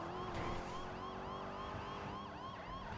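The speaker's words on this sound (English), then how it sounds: "Turn the siren off." A wailing emergency vehicle siren in a police role-play video game, sweeping continuously and loudly in repeating arcs with a steady engine hum beneath, no speech.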